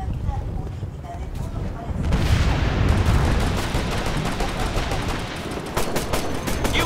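Gunfire in the video game Operation Flashpoint: Red River, with dense, loud automatic bursts and rapid cracks close by. The shooting builds and continues throughout, and voices talk over it.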